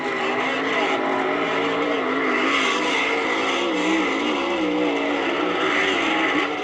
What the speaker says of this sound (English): faces Tom Hoover of Minnesota as we continue the first round of Fuel Funny Car Eliminator